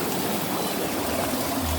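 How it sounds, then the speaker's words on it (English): Water in a Lay-Z-Spa inflatable hot tub churns and bubbles continuously from the air jets, a steady close, dense fizzing wash with no voices. "You can see it's bubbling away there, compared to those bubbles there."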